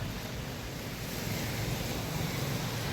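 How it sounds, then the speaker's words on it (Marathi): Strong wind gusting on a Mumbai street near the Mahalaxmi temple during heavy rain, a steady broadband roar that stays loud and unbroken throughout, with no voices. "इथे मुंबईमध्ये इकडे महालक्ष्मीच्या इथे वारा कसला सुटलाय, छत्री माझी 2दा उलटी झाली"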